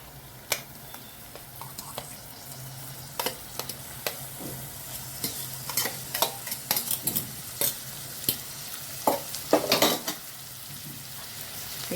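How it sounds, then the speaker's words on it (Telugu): Crab meat sizzles steadily in a hot pan while a spoon scrapes and clinks against the metal in quick irregular strokes, close and fairly quiet, with no talking. "పీతల పిడిపి వేసేసుకుని ఇది బాగా వేపాలండి"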